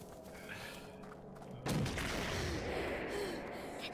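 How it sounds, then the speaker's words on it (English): Firecrackers going off in the video game The Blackout Club: a sudden loud burst of thumping, crackling noise that starts partway through and keeps rumbling over a steady background hum. "let me throw my firecrackers out for you guys."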